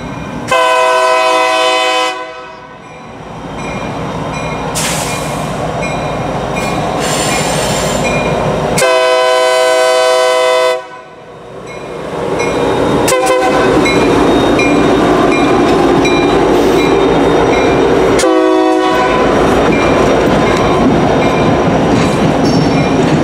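A Union Pacific EMD SD70ACE-T4 locomotive passes with blaring multi-tone horn blasts repeated over a loud, continuous roar of diesel and rolling rail cars, with wheel squeal and clatter close by.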